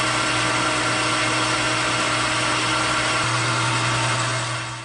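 Lathe cutting a steel axle for a 50 ton railroad jack, taking ten thousandths per pass: a loud, steady machine drone with a constant hum, fading slightly at the end.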